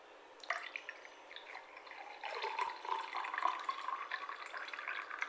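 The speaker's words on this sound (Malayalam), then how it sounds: "പിന്നെ നമുക്ക് വെള്ളം ചേർക്കാം." Water poured into a glass for a drink mixture of vinegar, ginger juice and pepper powder, a steady trickling splash lasting several seconds, close and moderately loud with no talk.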